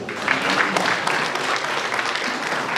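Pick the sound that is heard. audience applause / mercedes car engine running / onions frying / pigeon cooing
audience applause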